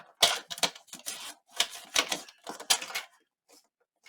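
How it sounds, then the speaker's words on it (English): A paper trimmer blade cuts through card in a quick series of crisp, scraping strokes, close and fairly loud, ending in quiet. "I'm going to pull the blade out in front of us one more time"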